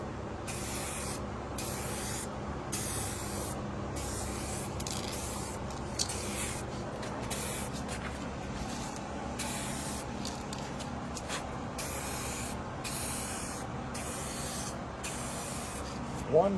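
Aerosol clear coat sprays onto cleaned canopy side panels laid out flat, a steady close hiss running almost continuously for about sixteen seconds with a few brief breaks, alone without voices.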